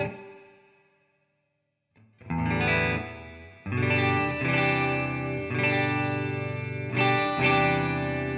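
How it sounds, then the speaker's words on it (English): Electric guitar with humbucker pickups played through coil-tap switches and effects, with strummed chords ringing out thick with chorus and distortion after a fading note and a brief silence, loud and steady with no talking. "you can mess with these switches and make all kinds of different tones come out of this guitar"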